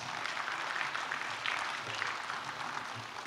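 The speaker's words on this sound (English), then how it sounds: "How about to give these gentlemen a round of applause?" Audience applause at the Philippine International Nuclear Supply Chain Forum, a steady wash of clapping sustained at even loudness for a few seconds with no talk over it.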